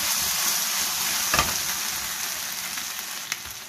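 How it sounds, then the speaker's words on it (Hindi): Chili sauce sizzles loudly in a hot pan with chicken wings, a dense, continuous frying hiss close by, with a brief stirring knock partway through. "अब इसमें मैं डालूंगी चिली सॉस 1 टेबलस्पून। मिक्स कर ले, जल ना जाए।"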